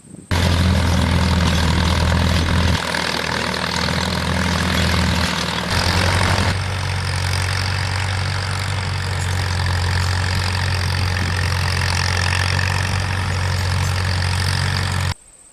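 A steady, loud Farmall M tractor engine drone with a low rumbling hum runs throughout, pulling a finish mower, shifting slightly in pitch midway, with no talking.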